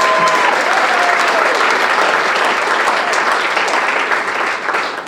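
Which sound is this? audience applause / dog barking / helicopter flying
audience applause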